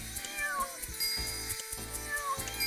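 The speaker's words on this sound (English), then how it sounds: "God, there's so many meows" Many cats meow over and over in the Doggie Dash video game at a spa on Pretty Kitty Day, overlapping high cries layered over steady game music.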